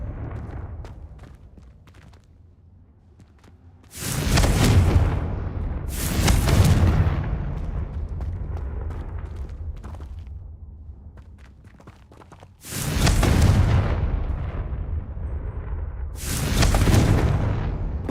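Blasting spell explosions from Hogwarts Legacy, four heavy booming bursts, each with a sharp broadband crack and a rumbling tail, spaced a few seconds apart and fairly close, with no talking over them.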